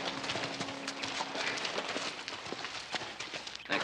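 Horses walking with soft, irregular hoof clops on the ground, fairly faint and close, alongside light rustling movement and no talk.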